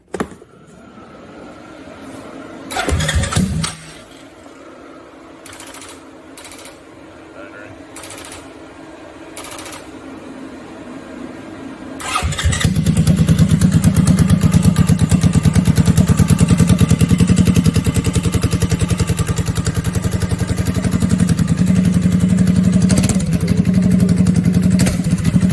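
A CFMoto CForce ATV engine cranks and catches after a quiet stretch, then settles into a loud, steady idle that runs on without a break.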